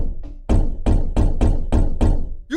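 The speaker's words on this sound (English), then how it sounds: "the knocks came before sunrise" Firm, evenly spaced knocks on a door before a U.S. Marshals raid, six heavy loud raps in a steady rhythm, close and dry with no talk.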